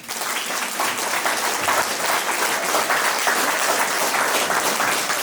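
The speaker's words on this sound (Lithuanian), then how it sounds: "Jūsų plojimai Liudmilai" A concert audience in Viekšniai applauds a woman celebrating her birthday, with dense, continuous clapping from many hands that stays loud and close throughout.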